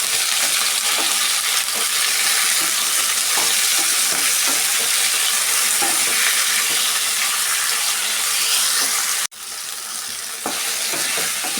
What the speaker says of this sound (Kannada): ಟೊಮೆಟೊ ಸ್ವಲ್ಪ ಸಾಫ್ಟ್ ಆಗೋ ತನಕ ನಾವು ಫ್ರೈ ಮಾಡ್ಕೊಬೇಕು